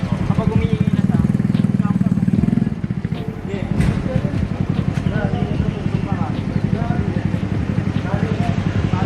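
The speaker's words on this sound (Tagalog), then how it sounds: "Kapag humingi yung makina, pakinggan mo yung makina." A car engine runs during a driving lesson, a low, steady rumble with a throbbing pulse that continues beneath near-constant conversation between driver and instructor inside the cabin.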